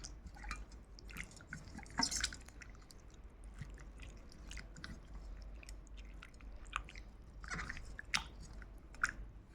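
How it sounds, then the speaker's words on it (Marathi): Raw mutton pieces are washed by hand in a bowl of water, giving faint, close squelches, drips and small splashes in an irregular rhythm. "हे मटण मी वॉश करून घेत आहे."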